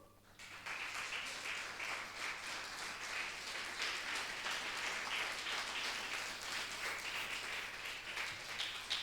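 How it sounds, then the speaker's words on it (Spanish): Church congregation applauding during a sermon, a steady wash of many hands clapping at moderate distance, sustained evenly for the whole stretch over a low constant hum. "Sí, aplauda a Jesús."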